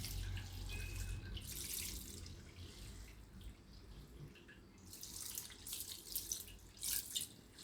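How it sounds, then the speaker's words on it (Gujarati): Cold water is poured over freshly boiled noodles in a strainer, soft close splashing with a couple of brief louder gushes among quieter trickling. "ઉપરથી આપણે ઠંડુ પાણી નાખી દેવાનું એટલે ઠરી જાય જલ્દી"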